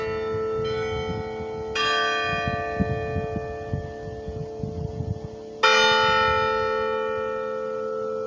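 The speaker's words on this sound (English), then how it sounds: "For whom the bell tolls." A large church bell tolls with long ringing decay, struck three times at spaced intervals, loud and close, with low rumbling background noise beneath.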